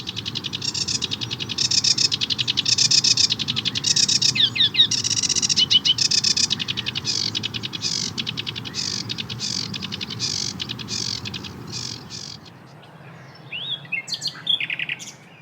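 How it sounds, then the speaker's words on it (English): A busy, chattering warbler song of rapid scratchy and whistled phrases runs almost continuously, loud and close, before fading to quieter calls near the end. "the rather noisy and gregarious sedge warbler"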